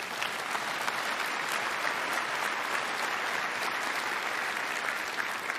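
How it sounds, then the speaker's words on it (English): Steady, dense applause from a church congregation fills the space at an even, loud level throughout, with no voices standing out. "You can clap."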